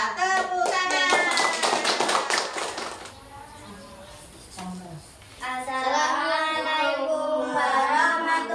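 Rhythmic clapping in a school classroom, brisk and close for about three seconds, while children's voices chant along, then a pause and group speech.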